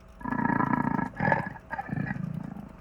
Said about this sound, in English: This is what cheetahs sound like.